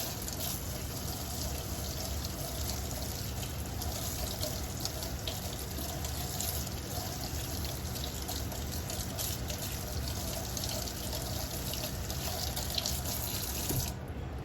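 A makeup brush being rinsed of dish soap under a running tap, with a steady, close splashing rush of water into a sink that continues unbroken, with no speech.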